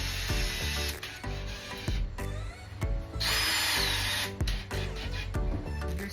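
A power drill drives screws to assemble an Aivituvin wooden cat house, with repeated loud whirring bursts of varying length close by, separated by short pauses and clicks.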